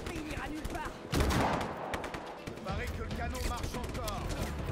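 Bursts of rapid gunfire and cannon shots from the video game Just Cause 3, loud crackling volleys with a heavy blast in the middle, against dense game action noise.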